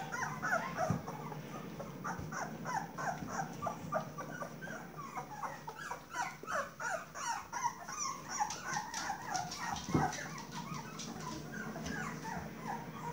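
Several puppies whimper and yip in a whelping pen, a steady chorus of short, high cries repeating throughout at moderate, close range, with one louder bump near the end.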